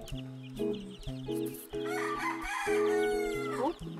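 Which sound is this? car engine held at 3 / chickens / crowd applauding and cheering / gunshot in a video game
chickens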